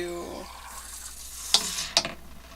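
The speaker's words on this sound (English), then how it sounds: "last we are going to add beer to the mix" Beer poured into a pot of veggie chili in a boat galley gives a short fizzing sizzle, with two sharp clinks close by.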